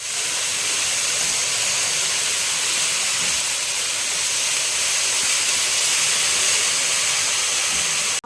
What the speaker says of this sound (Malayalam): കടുക് പൊട്ടിക്കഴിഞ്ഞ് നമുക്ക് ചീരയെല്ലാം ഇട്ടൊന്ന് മിക്സാക്കി എടുക്കാം